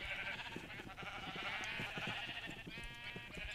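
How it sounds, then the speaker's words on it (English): Sheep bleat repeatedly on a Minecraft sheep farm, a dense overlapping chorus of loud, wavering calls that continues without pause. "It cycles the sheep through automatically, I guess, so they're easier to shear somehow?"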